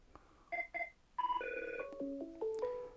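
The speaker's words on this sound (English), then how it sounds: "so now we can see the call coming in on here, and it's ringing on here as well" An incoming Google Voice call rings on a mobile phone as a melodic electronic ringtone: a sequence of clear, stepped tones, close and fairly loud, with no talk over it.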